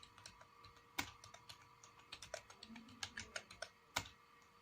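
Keys on a computer keyboard tapped while typing text into an MS Word document, a quiet, uneven series of close, sharp clicks with a few louder strokes standing out.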